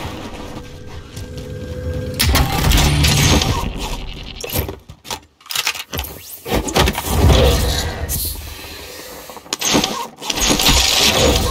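A vehicle is driven in Call of Duty Warzone's Plunder mode. A loud engine rumble surges and drops with brief gaps and shifting intensity, heard close with no clear speech.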